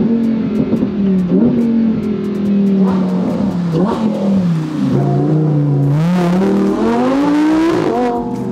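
A Lamborghini Huracan EVO accelerates hard, its engine note climbing and dropping through gear changes before surging to a loud, high rising howl, close and dominant throughout.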